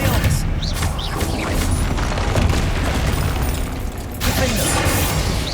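Bombarda and Confringo spell blasts in the Hogwarts Legacy video game: loud, dense booming explosions and crashing bursts pile up continuously, with a shouting voice in the mix.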